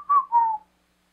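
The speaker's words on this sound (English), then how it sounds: "sometimes I whistle while I work" A person whistles two short, clear notes in quick succession, close and alone, followed by silence.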